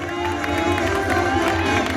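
At a triathlon trophy ceremony, an outdoor crowd claps and cheers in a dense, continuous roar while a voice carries over the noise.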